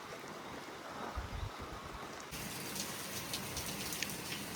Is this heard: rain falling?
yes